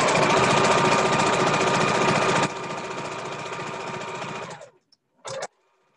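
A sewing machine runs a straight stitch, sewing ribbon onto fabric for a skirt, a close, loud, rapid mechanical whirring that slows partway, stops, then gives one short final burst.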